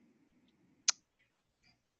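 A single sharp computer mouse click in a quiet room, with a faint fainter tick shortly after.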